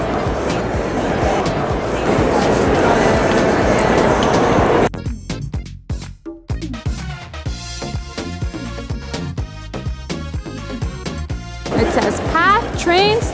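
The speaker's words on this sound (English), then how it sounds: "Yeah, the one train is outside." A PATH subway train rumbles and clatters through World Trade Center station, with a steady roar at first, then rhythmic wheel clicks and rattling as it rolls on, and voices talking in the background.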